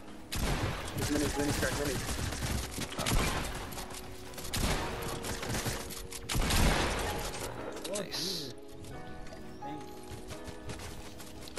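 Rapid video game gunfire from a squad battle royale match, dense bursts and repeated shots crackling nearly throughout at close range, with game effects layered in.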